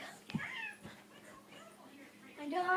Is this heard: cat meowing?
yes